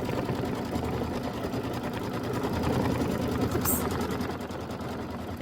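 An embroidery machine stitches a placement line for a Kimberbell mini quilt, a steady close mechanical whir with rapid needle pulses, with a single brief spoken exclamation over it.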